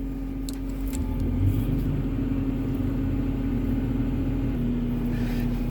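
A crusher machine compacts an RV camper with a continuous, loud low rumble of engine and hydraulics. The sound stays steady and close throughout.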